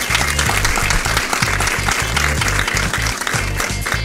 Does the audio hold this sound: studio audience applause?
yes